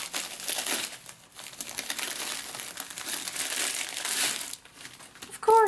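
Packaging from a diamond painting kit being torn open and crinkled, with plastic and taped wrapping rustling loudly and continuously up close, pausing briefly before a final burst of handling.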